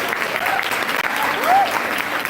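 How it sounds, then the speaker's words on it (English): A seminar audience applauds in a hall, a steady spread of clapping under a faint whistle or squeal partway through, with a voice briefly audible in the mix. "You can applaud for yourselves."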